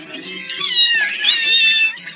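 Cartoon cat from a Doraemon episode meowing in two drawn-out, wavering cries, loud and close, with no speech over it.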